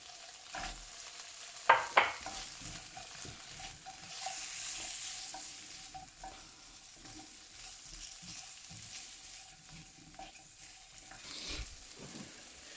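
Precooked duck pieces stirred and fried in a pan for a Kerala duck roast, giving a soft steady sizzle with a couple of sharp utensil clanks early on, fairly quiet throughout.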